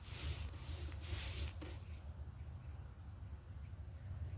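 Paintbrush stroking paint onto a wooden cabinet along the grain, a few soft brushing swishes up close followed by quieter rubbing.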